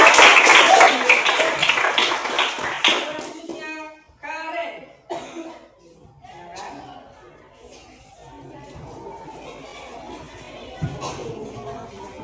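Loud applause and cheering from a group of students in a school gym class after a forward roll demonstration, fading into chatter, shuffling and scattered voices.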